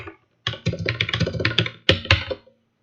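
Keys tapped on a computer keyboard while entering a login ID, two bursts of quick, close clicks separated by a short pause, with no voice.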